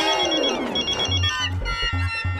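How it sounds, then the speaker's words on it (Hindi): A mobile phone rings on in a Taarak Mehta Ka Ooltah Chashmah comedy scene, a loud melodic ringtone filling the short stretch over a steady low background. "अभी अभी रिंग जा रही थी"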